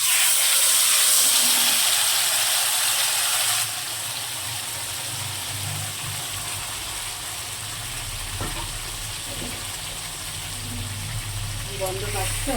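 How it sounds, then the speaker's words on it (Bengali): Fish frying in hot oil with black cumin seeds as the tempering, a steady loud sizzle and hiss that is strongest at first, then settles into a continuous crackling fry with faint clinks near the end. "এবার মাছটা কালাতে রাখবো।"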